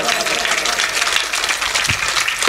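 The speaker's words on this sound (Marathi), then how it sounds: "सर्वांसाठी जोरदार एकदा टाळ्या वाजवा" A kirtan audience applauds loudly for the singers, cymbal players and mridang player. The clapping is dense and continuous, with voices mixed into the crowd noise.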